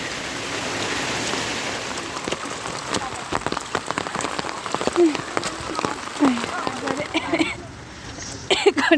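Heavy rain pours through dense forest on a walk to Taji in Nuwakot, a steady loud hiss of drops pattering on leaves and ground, with scattered nearer drips and faint voices underneath.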